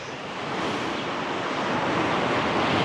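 Sea waves on the Odesa shore wash in as a loud, continuous roar of surf with wind buffeting the microphone, filling the whole stretch with no voices.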